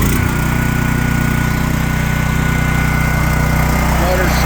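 A gasoline generator engine runs on full choke with a steady, loud low-pitched drone and constant vibration, close by, with no clear starting burst.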